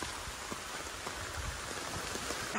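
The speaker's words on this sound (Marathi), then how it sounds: "पण परत जोरदार पाऊस आलाय." Heavy rain pours outdoors in a village, a dense steady patter of drops hitting surfaces close by, continuous and even throughout with no one talking.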